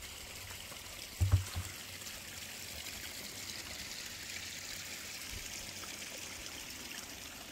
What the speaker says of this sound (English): The water goes under the road and go to the spring over there.